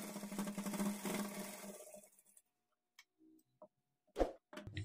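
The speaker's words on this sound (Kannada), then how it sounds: "ಈ ಕೂಳೆ ಎಲ್ಲ ಈಚೆಗೆ ಕಾಣಿಸ್ದಂಗೆ ಫೋಲ್ಡ್ ಮಾಡಿಕೊಂಡು ಸ್ಟಿಚ್ ಮಾಡ್ಕೊಳ್ಳಿ" A sewing machine stitches the folded edge of blouse fabric in a quick rapid run of ticks that then stops, followed by a few faint isolated clicks and handling sounds.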